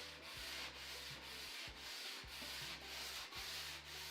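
Small foam sanding block rubbed back and forth over a painted shaker cabinet door, rhythmic scraping strokes about twice per second, close and steady, with no voices.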